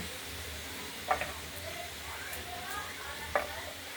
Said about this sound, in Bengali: ফুলকপি কুচিয়ে আলু ছোটো ছোটো করে দিয়ে পাঁচফোড়ন দিয়ে তেজপাতা লঙ্কা